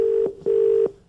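A telephone ringback tone on a call to a supermarket's UK headquarters, two steady electronic tone bursts separated by a short gap, clear and fairly quiet.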